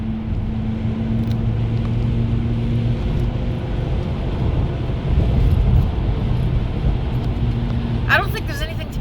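Steady low road rumble inside a moving car, continuous and fairly loud throughout, with a brief brighter burst near the end.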